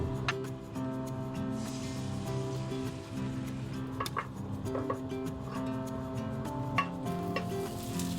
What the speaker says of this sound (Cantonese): 我而家先炒咗炒飯先，中火到中大火，慢慢咁炒，炒香佢